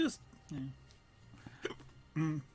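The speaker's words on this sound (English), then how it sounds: "I've now got hiccups." Several sharp hiccups sound close by at uneven intervals, short bursts separated by quiet pauses, with a faint voice-like murmur between them.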